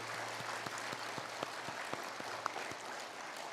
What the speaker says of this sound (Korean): 큰 박수 하도록 하겠습니다